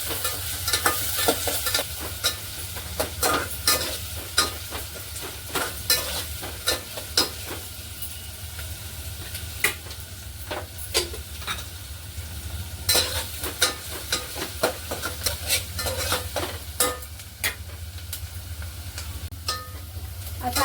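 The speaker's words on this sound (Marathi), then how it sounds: "कांदा चांगला गुलाबी रंगावर होईपर्यंत आपण परतून घ्यायचा आहे" Finely chopped onions sauté in hot oil in a pan, a steady close sizzle broken by frequent sharp scrapes and clicks of a spatula stirring them, with no voices.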